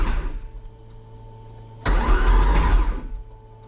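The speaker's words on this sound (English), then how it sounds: "The engine spins over." A Toyota MR-S with a swapped 1.8 20V turbo engine cranks over on the starter, a droning whir that stops briefly and then resumes louder and rougher for about a second and a half before cutting off.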